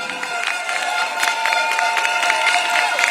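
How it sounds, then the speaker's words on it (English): Crowd at a Singapore election rally clapping and cheering over a sustained musical tone, a steady, fairly loud wash of hands with scattered sharper claps throughout. "Give them a round of applause"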